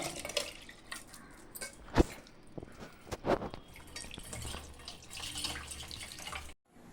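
Lentils being washed in a bowl of water: sloshing, dripping and light splashes come in uneven bursts, with a couple of sharper knocks against the vessel, close and fairly quiet, ending in a brief silence.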